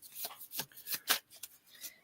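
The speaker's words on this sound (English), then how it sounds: "So I'm shuffling my oracle deck with my runic animals." An oracle card deck with runic animal artwork is shuffled by hand, giving a run of quick, crisp riffling bursts close up and fairly quiet, with no talking.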